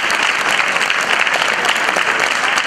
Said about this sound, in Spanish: Les damos fuerte el aplauso a todos mientras se van colocando.